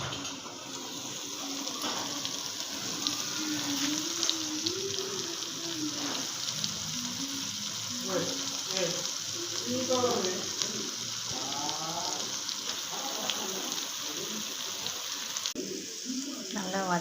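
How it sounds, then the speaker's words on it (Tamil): Chicken frying on a medium flame for ghee roast: a steady soft sizzle and bubbling runs throughout, faint and continuous beneath a voice talking. "மிதமான தீயில் அப்படியே ஃப்ரை பண்ணி எடுக்கணும்,"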